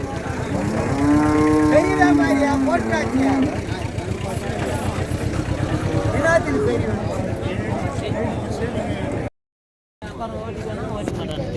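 A cow lows loudly at the Vaniyambadi cattle market, one long drawn-out moo early on, then more distant mooing amid a crowd and someone speaking, with a brief dropout near the end.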